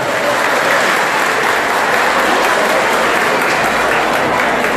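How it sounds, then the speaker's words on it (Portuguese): Audience applause for a city councillor at a Folia de Reis festival celebrating Santos Reis at a parish in São Paulo, a loud steady wash of many hands clapping continuously with no break. "Gostaria que todos tivessem uma salva de palmas para o Roselei"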